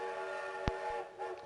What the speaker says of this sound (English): First train arrives